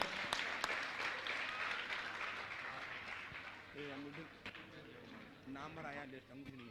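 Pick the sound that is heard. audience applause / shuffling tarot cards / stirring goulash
audience applause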